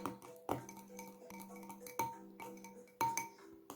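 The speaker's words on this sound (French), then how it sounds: "On remue à nouveau." A homemade monoi-scented detangling hair balm mixture being stirred in a small container, with light clinks and taps of a utensil against the side, a few sharper knocks standing out, quiet and close.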